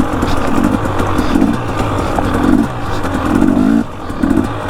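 A dirt bike engine runs steadily nearby with a loud, rough, buzzing drone and slight pulsing in pitch, heard alone without talk.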